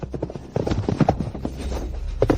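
A horse galloping at speed, quick repeated hoofbeats in an uneven rolling rhythm, close and fairly loud, with no voices over it.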